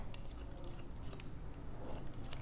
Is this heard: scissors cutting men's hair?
yes